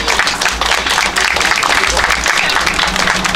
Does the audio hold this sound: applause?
yes